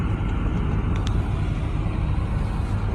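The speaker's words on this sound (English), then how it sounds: "let the car warm up" A car engine idles steadily while warming up in snowy, cold weather, a continuous low rumble heard from close by with no talking.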